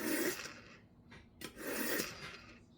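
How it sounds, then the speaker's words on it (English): A large butcher knife scraped along a PAUDIN walnut sharpener in two rasping strokes, each a broad gritty swish, close and fairly quiet, with no voice over them. "look at this big old knife. We're gonna sharpen it."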